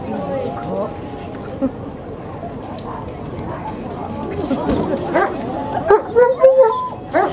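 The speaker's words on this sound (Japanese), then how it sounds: "もう人の匂いがちゃんとここにするっていうことで吠えてくれてますね" Search dog at an animal welfare festival demonstration at Osaka Castle, barking on finding a hidden person: a burst of repeated close barks and yips toward the end, heard under ongoing talk and crowd noise.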